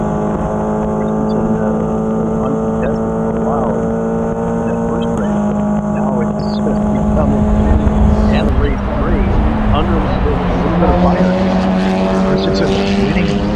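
Formula 4 race cars howling at Road America, several engines at once running three and four wide downhill toward the bridge, their loud overlapping whine shifting pitch as they pass, with a commentator talking over them.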